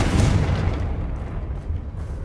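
A Confringo fire spell explodes in Hogwarts Legacy with a loud, close boom right at the start that fades into a rumbling tail.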